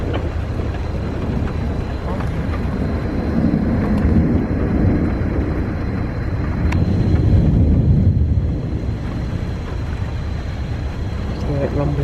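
Thunder rolls in a long, low rumble during a lightning storm, swelling to a louder stretch partway through. Wind buffets the microphone throughout, and a voice can be heard in the background.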